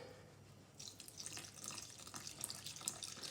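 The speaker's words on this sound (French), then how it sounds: "Je vais rajouter un petit peu d'eau." Water poured into semolina bread dough for pan-fried batbout, a faint, close trickle and splash that starts partway in and continues steadily, with no talking.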